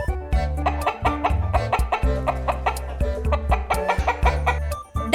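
A hen clucks over a bouncy background music track with a steady beat, the bird calls faint and partly masked by the music.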